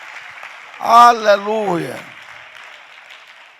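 A church congregation claps in steady applause during a service, a soft continuous patter underneath a single loud exclamation from a speaker.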